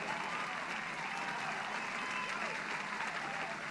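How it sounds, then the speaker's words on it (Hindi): A quiz-show audience at a Jain Dashlakshan religious gathering claps steadily, a faint, continuous wash of applause from a crowd that holds level throughout. "जोरदार तालियां बजाएंगे आप"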